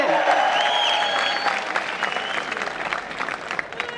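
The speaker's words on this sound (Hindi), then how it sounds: "तालियां उनके सारे लोगों के लिए।" A large audience at a gathering applauds loudly in a dense, sustained burst of clapping that gradually thins out over a few seconds.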